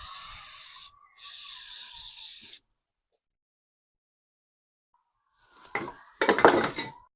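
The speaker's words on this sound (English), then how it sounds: "let's quickly spray out the bowl" Cleaner sprayed from an aerosol can into a Briggs & Stratton Yard King lawnmower carburetor bowl gives two close hissing bursts, then a pause and a few shorter sprays with rattling handling noise.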